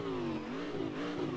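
A Corvette DP prototype race car engine in Assetto Corsa revs steadily and loudly for a moment, a continuous droning roar with shifting pitch and no talking.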